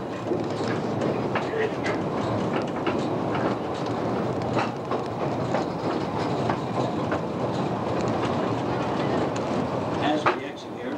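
A train at an Alaska gold mine starts and rumbles steadily with a dense, continuous mechanical roar and faint rhythmic clatter throughout, with voices faintly underneath.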